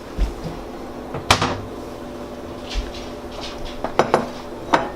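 A kitchen cupboard door bangs open, then a bowl is lifted out, giving a few sharp clacks and clinks of dishes knocking against each other, close and irregular.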